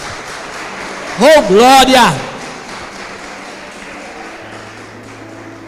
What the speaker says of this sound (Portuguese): Pode aplaudir porque Ele é digno.